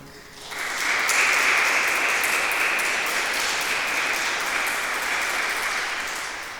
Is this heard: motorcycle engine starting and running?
no